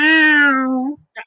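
A comedy performer imitates a cat's meow with one loud, drawn-out, nasal meow close to the mic that slides down in pitch, followed by a brief pause and a short extra squeak.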